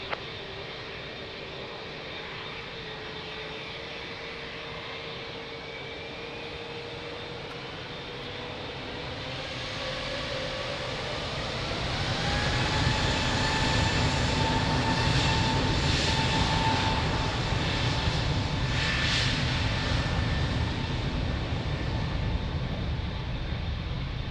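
An airliner takes off from runway 02 at Lisbon Airport, its engines rising from a distant whine to a loud, sustained roar that swells midway and holds to the end, with no talk.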